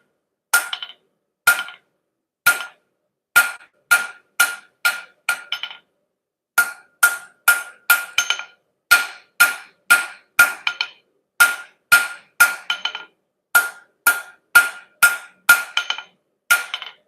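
A hammer strikes a metal bottle opener at the edge of an anvil, producing sharp, bright ringing clanks in quick bursts of three to six blows separated by short pauses, loud and close.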